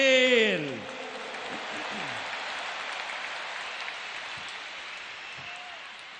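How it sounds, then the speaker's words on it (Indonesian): Applause for Gus Muhaimin fills a large campaign rally at Jakarta International Stadium, a dense, steady crowd clapping that swells just after a brief voice and holds broad and loud to the end. "Tepuk tangan dulu yang meriah untuk Gus Muhaimin."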